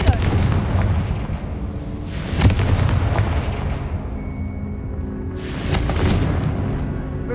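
Confringo fire-blast spell explosions in Hogwarts Legacy, two loud booming bursts about four seconds apart over a dense rumbling game background.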